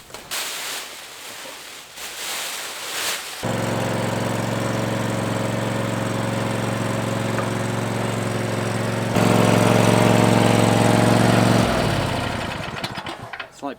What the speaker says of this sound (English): Any day that involves a ride-on lawnmower